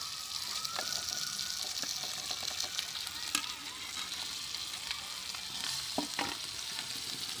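Potatoes frying in a pan with ground coriander and red chilli powder for a dry aloo masala, a dense continuous sizzle with scattered spatula scrapes and clicks throughout, no one talking.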